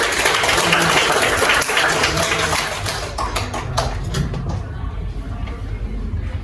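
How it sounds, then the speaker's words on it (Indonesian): Students applaud at a school seminar in a hall, a dense burst of clapping that fills the first few seconds, then thins and fades while background chatter and room noise carry on. "berikan tepuk tangan dulu"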